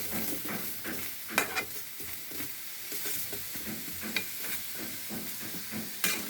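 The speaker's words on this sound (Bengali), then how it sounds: "হালকা, একদম হালকাভাবে কিছুটা সবজি রান্না করছি" Vegetables cooked lightly in a pan, with a steady sizzle under repeated scraping stirs of a spatula at an irregular pace, heard close and continuous throughout.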